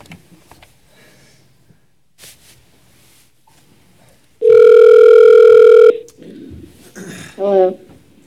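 A steady telephone dial tone sounds loud and alone for about a second and a half after a call is hung up during a city council meeting, with faint room murmur and talk before and after.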